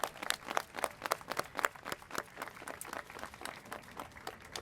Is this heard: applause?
yes